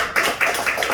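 A church congregation at a Sunday worship service claps together in a steady, rhythmic beat, loud and close, with no talking.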